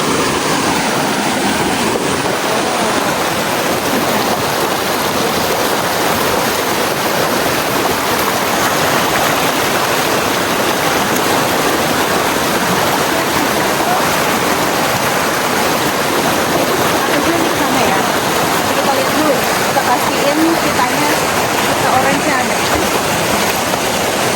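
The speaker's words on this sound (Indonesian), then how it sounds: "Kita nyebrangin sungai yang ke-4." A river flowing during a hike crossing streams near Curug Cisadane waterfall, a steady loud rushing of water filling the whole scene without a break.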